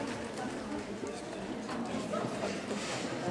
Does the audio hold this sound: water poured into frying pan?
no